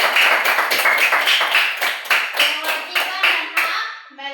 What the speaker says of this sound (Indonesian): tepuk tangan dulu buat Baby